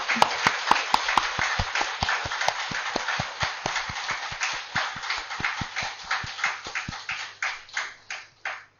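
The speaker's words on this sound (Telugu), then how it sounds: "ఒక్కసారి గట్టిగా చప్పట్లు కొట్టండి." An audience at a spiritual gathering claps loudly in unison, with crisp, evenly spaced claps keeping a steady beat that swells slightly toward the end, and no voices.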